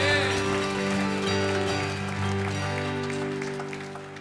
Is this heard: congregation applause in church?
yes